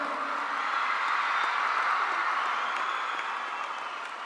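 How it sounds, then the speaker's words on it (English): Sustained audience applause greets the arriving President of India at a Global Spirituality Mahotsav event, a dense, steady wash of many hands clapping at full strength throughout, easing only slightly at the end. "A big round of applause, ladies and gentlemen."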